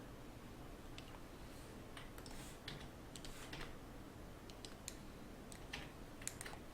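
Keys pressed on a computer keyboard while modelling in Blender, a scattered series of quiet close clicks and taps in irregular bursts over low background hiss, no talking.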